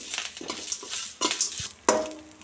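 Fresh grated coconut frying in a pan, a soft sizzle under scraping and clinking as a spatula stirs and tosses it, close and moderately loud, without any speech.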